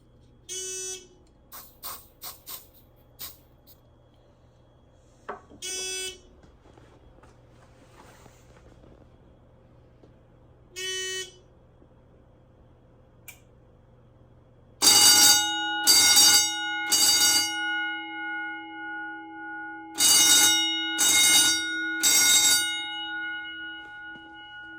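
An EST 6632 fire alarm demo system sounds after a device is triggered: loud, close bell bursts ring in a stuttering repeated pattern, following quieter scattered tones and beeps.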